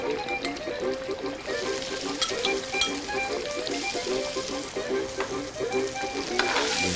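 Lard and shallot frying in extra virgin olive oil in a pan, a steady close sizzle with crackling pops and faint stirring throughout, for a dish of fava beans with sea scallops.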